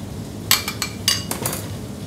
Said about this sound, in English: Stirring it around.